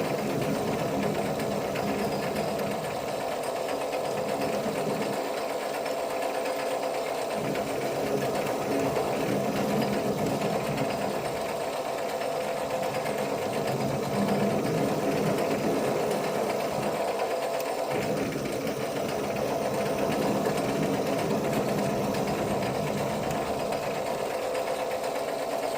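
A newly acquired metal lathe for a wheelie bar project runs steadily while turning a part, giving a continuous mechanical whir with faint knocking undertones, loud and close, with no talking.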